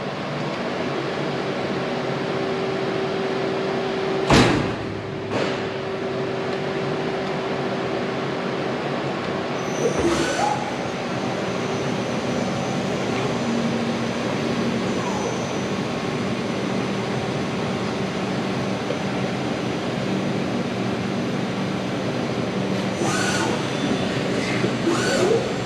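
A Takamaz XYT 51 twin-turret CNC lathe with FANUC axis drives and spindle motors runs in full auto mode. A steady mechanical whir with faint tonal whines is broken by a few sharp clanks of tooling and turret movement.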